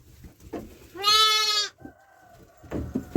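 A single loud, harmonic bleat from a sheep or goat lasting about half a second, close by, with scattered rustling and handling noises around it.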